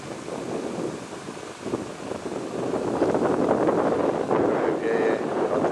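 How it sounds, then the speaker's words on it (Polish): Wind blows at the Hungarian-Slovak border, buffeting the microphone with a steady loud rumble that grows stronger partway through and carries on without pause. "Wieje"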